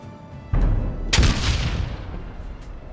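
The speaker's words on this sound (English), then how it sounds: "Not sure what those explosions are" Heavy explosions boom in the video game The Lamplighters League, two loud deep blasts about half a second apart, each followed by a rumbling decay.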